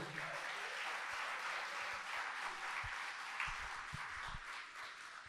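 A church congregation applauds steadily at a sermon, a sustained wash of clapping heard from within the crowd at moderate volume, with no talking over it.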